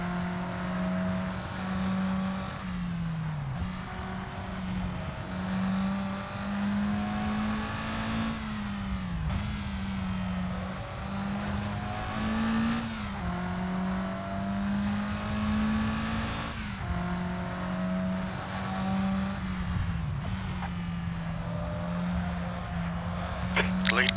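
Mazda MX5 race cars circling Brands Hatch: a steady engine drone rising and falling as cars pass and shift gears, heard under continuous commentary.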